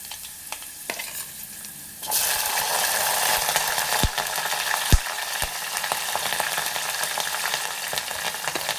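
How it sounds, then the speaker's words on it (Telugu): Green chillies and onions hit hot oil with softened garlic in a pan for a brinjal tomato curry, setting off a sudden loud, continuous sizzle after a quieter start, broken by a few spoon knocks and stirring scrapes. "ఇంకా మనం ఇప్పుడైతే పచ్చిమిర్చి, ఆనియన్స్ అయితే వేసుకుందాం."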